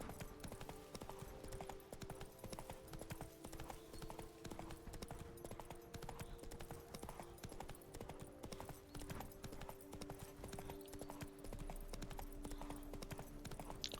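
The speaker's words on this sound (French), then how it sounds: "On va y aller à cheval, tiens." Galloping horse hooves in The Witcher 3 video game, a steady rapid clip-clop rhythm running throughout over a sustained droning music bed, fairly even in loudness with no talk.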